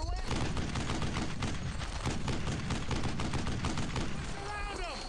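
Dense gunfire in Brothers in Arms: Earned in Blood, rapid overlapping shots and bursts in a continuous loud barrage, with shouting voices near the end.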